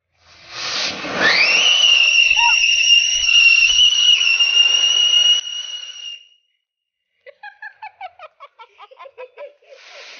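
A CSK-themed whistle cracker lit outdoors for a Diwali 2023 celebration shrieks with a rising then sustained whistle for several seconds, falls silent, then bursts into a quick series of sharp crackling pops, close and loud.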